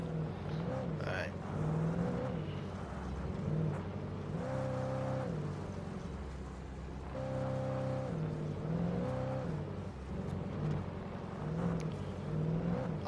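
Car driving in Alan Wake Remastered, a steady engine drone with rising and falling revs and a constant whirring hum throughout, loud and close, mixed with game music.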